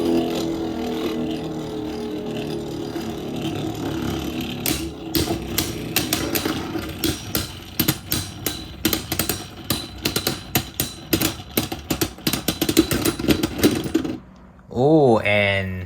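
Beyblade Burst tops, including Super Hyperion, spinning and battling in a stadium: a steady whir broken by rapid, irregular plastic clacks and knocks of repeated collisions, ending in a brief rising-and-falling whine.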